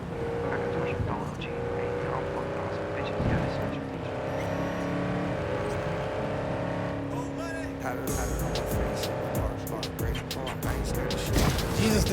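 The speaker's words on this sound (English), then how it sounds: "this car is so quick that I can't read the chat when I'm driving" A car driven in the video game Cyberpunk 2077 keeps up a steady engine drone for the whole stretch, with busier, brighter bursts late on suggesting acceleration or skidding, all at a fairly loud level with game sound mixed in.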